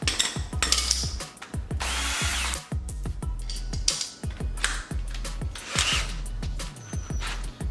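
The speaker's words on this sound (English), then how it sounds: "that's where the drill hooks up" Power drill fitted with an ice auger adapter, whirring in repeated short bursts that spin up and cut off in an irregular rhythm, close and loud, with scraping and grinding between bursts.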